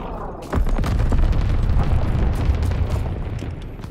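Bombs exploding in a Call of Duty WWII multiplayer match: a heavy blast begins around half a second in, then a continuous roaring, crackling rumble of explosions and debris persists loudly to the end.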